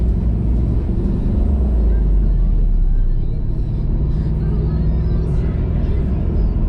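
Steady low engine rumble and road noise from inside a car cruising down a straight neighborhood street over some bumps, loud and continuous with no pauses.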